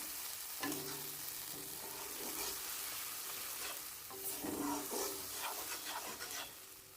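Onions and spice paste fry and sizzle steadily in a pan for fish in mustard sauce, with a spoon scraping and stirring through them in repeated strokes, close and fairly loud, with no talking.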